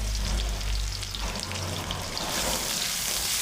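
Finely chopped onion sizzles and crackles in a hot pan while cooking restaurant-style palak paneer, a steady close frying hiss without talk.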